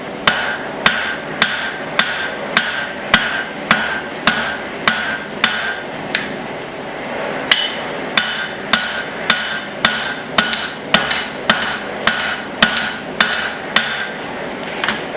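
Hot steel being spread on an anvil with a cross peen hammer while forging a small axe blade, struck in a steady run of sharp, ringing metallic blows about two per second, close and loud with no talking.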